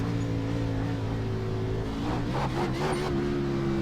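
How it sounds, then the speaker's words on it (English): Simulated NASCAR car engine in iRacing at Richmond, revving steadily during a victory lap: a continuous loud, droning engine tone with a brief rise and rougher texture near the end. "Revving the engine."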